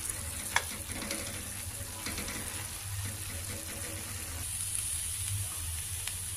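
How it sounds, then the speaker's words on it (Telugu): Curry with sesame chili powder sizzling steadily in a hot pan while being stirred, a continuous close frying hiss with faint scraping, no voices. "ఒక 5 మినిట్స్ మనం ఇలా కొద్దిగా అన్నీ మిక్స్ అయ్యేలాగా కుక్ చేసుకుంటే సరిపోతుంది కూరకి"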